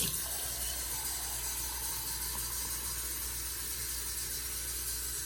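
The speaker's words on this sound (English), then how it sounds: "I'm gonna go ahead and get me some good old sink water." Steady running tap water fills a glass at a sink, a constant broadband hiss with no talking.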